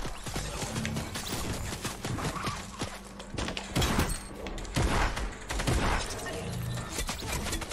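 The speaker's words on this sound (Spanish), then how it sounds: "me estaba disparando solo el arma" A gun firing by itself in Fortnite, rapid dense bursts of gunfire that continue almost without pause, loud and close, with sharp repeated shots throughout.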